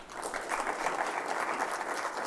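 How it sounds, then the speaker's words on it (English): Audience applause for a speaker at a cyber week conference morning session, steady dense clapping from a seated crowd filling the room, moderately loud and alone throughout. "Let's clap again for Finn Yang"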